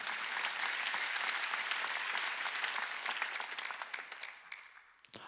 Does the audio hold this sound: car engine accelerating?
no